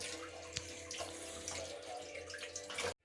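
Cold tap water runs steadily over fish being washed, a continuous splashing rush with a few sharper spatters, then cuts off abruptly at the end.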